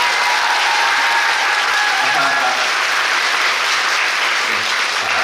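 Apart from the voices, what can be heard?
audience applause at a musical stage greeting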